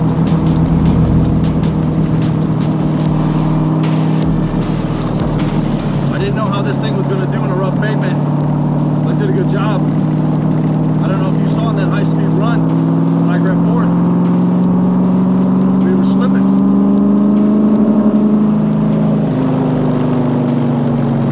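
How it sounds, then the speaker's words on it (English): A 1965 Shelby Cobra sports car's engine drones steadily while driving, a loud close rumble with rising and falling pitch as it accelerates, with someone talking over it. "This car is fast."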